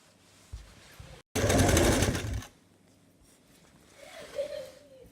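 A sewing machine stitches fabric for a two-layer long dress in one loud burst of about a second, set between quieter handling noises. A brief whine follows afterward.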